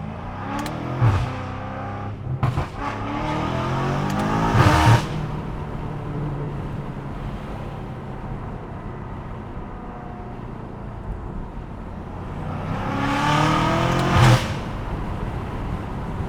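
A loud-exhaust BMW M5 in sport mode, heard from inside while driving: sharp revving bursts near the start and again near the end surge over a steady engine hum in between.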